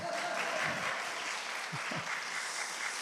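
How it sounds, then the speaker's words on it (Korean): Steady applause from a church congregation during a Sunday service at Connect Church in Toronto, a dense, even wash of clapping lasting throughout, with no voices above it. "또 박수 해야 될 것 같은데요"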